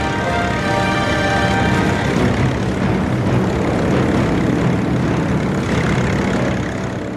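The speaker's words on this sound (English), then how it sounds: "the carriers of the Imperial Fleet launched their level and torpedo bombers and their fighter escorts on the 250-mile flight to Pearl Harbor" Piston engines of WWII Japanese carrier-borne level bombers, torpedo bombers and fighter escorts of the Imperial Fleet launching toward Pearl Harbor, a loud, steady propeller drone with no pause and no voices.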